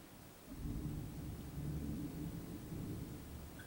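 Low rolling thunder rumbles steadily through a thunderstorm, a distant, sustained grumble with a faint hiss of rain and no voices.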